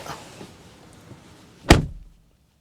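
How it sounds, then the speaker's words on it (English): A 2020 Mercedes-Benz GLC car door shuts from inside with a single solid thud after a stretch of quiet rustling, then the cabin falls silent. "Door open and close sound on the 2020 GLC."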